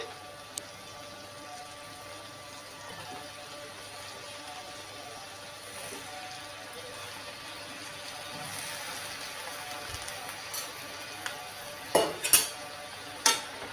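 Brinjal pieces being stirred in a pan for a curry, with a faint low sizzle that builds to a few sharp metallic spoon scrapes and clinks near the end, close but quiet.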